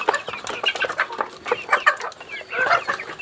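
A backyard flock of more than forty mixed chickens, young and grown, clucking and squawking close by in a busy, overlapping chatter that never lets up.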